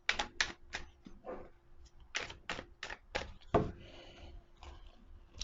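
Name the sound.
shuffling cards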